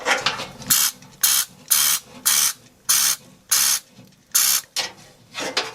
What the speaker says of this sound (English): I'm going to spray here to get rid of any of the residual dust.